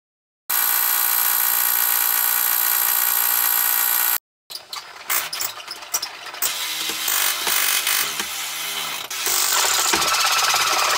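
Loud, steady drill whine for several seconds, a brief pause, then rougher bursts of drilling and grinding that come and go, close by, while installing a Tesla wallbox.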